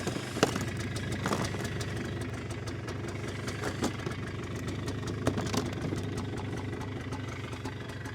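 A cheap Polaris quad bike engine idles steadily with a rough, knocking rumble, holding a constant low drone throughout.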